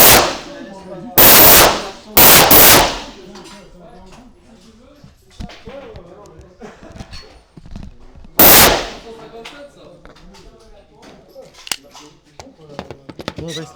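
Short-range firearm test-fired inside a gun shop during a special in-store event: three loud, sharp blasts, two close together early and one later, with voices talking quietly in between.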